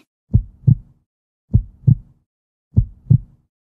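Heartbeat heard through a stethoscope in the Doc McStuffins video game: three clean, loud lub-dub pairs at a steady, even pace with silence between them.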